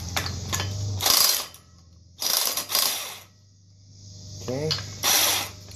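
A ratchet loosens the 17 mm bolt on a Can-Am Renegade/Outlander secondary clutch during an engine teardown, making several loud, close bursts of rapid clicking separated by pauses, with a brief spoken word in between.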